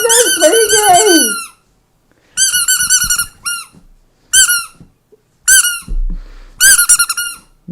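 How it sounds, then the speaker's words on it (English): A squeaky toy squeaks in loud, close bursts of repeated high-pitched squeals, separated by short silent gaps, with no talking over it. "No! Don't take my squeaky toy! This is like a squeaky toy!"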